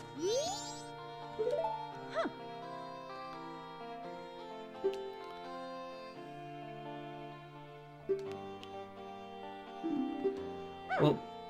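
Dogs in the dog race of the video game Zelda: Majora's Mask give several short, yippy barks and whimpers over a tinkling, sustained game music bed, with clusters of barks near the start, middle and end.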